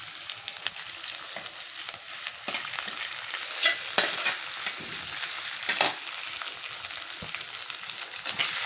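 Chopped onion and ginger-garlic paste frying and sizzling in a pan with occasional stirring scrapes, a steady close crackle throughout with brief louder clicks of a utensil against the pan.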